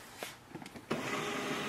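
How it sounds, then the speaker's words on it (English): An HP LaserJet M111w printer starting up to print, a few soft clicks followed by a steady mechanical whir of the feed motor, close and alone. "Instantly it will start the printing."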